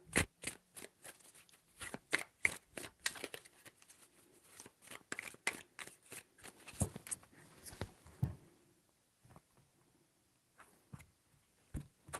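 Crisp riffling and snapping bursts of shuffled cards come in quick repeated flurries, close and fairly quiet, with a few sparse taps toward the end.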